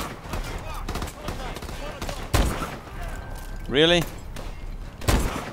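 A powerful sniper rifle fires in Call of Duty: Advanced Warfare, sharp heavy shots at intervals among game effects and a whooshing sweep, while someone talks over the action.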